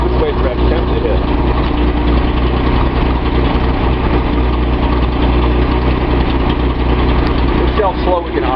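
A Datsun 280Z with an L28 engine that has a misfire idles steadily up close, a constant low rumble running through the whole stretch.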